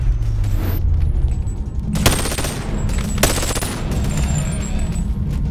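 Gunfire in the VR shooter Boneworks, tower level: a low rumbling ambience broken by two sharp, loud rapid bursts of automatic fire with ringing metallic tails, no talk.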